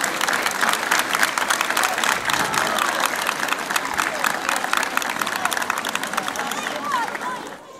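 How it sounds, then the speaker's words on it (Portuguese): A crowd applauds the Santa Casa da Misericórdia march at the Santo António popular marches parade, sustained dense clapping with crowd murmur, fading at the end. "Uma salva de palmas para eles e para todos os que os ajudaram a estar aqui hoje."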